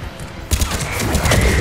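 Dense gunfire in the sci-fi shooter Mass Effect 3, a loud close burst of rapid shots that starts abruptly after a brief quieter moment and continues steadily.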